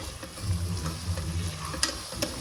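Ingredients for ghee rice fry in a pan, a close, quiet crackling sizzle with scraping stir strokes and a couple of sharper clicks of a spoon, no voice heard.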